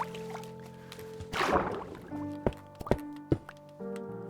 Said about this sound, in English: Yeah, bubbles down.